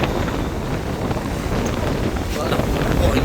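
Strong wind buffets the microphone on a stormy coast during a cyclone with tsunami fears, a loud continuous roar with rushing sea water mixed in throughout.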